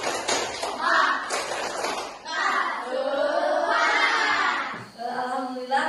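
Schoolchildren in a classroom chant and clap together in the tepuk semangat routine, loud voices shouting in rhythm with bursts of clapping throughout.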